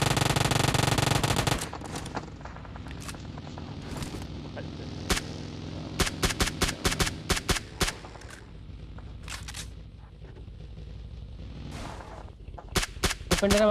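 Rapid gunfire rattles through a BGMI mobile battle royale match in sharp, repeated bursts over a constant game background rumble, while players talk over it.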